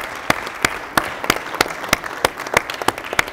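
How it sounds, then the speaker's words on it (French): Rhythmic unison clapping from a cybersecurity forum audience, loud evenly spaced claps about three per second over a softer bed of scattered clapping. "je veux juste prendre 2 minutes et juste applaudir M. Haïdara"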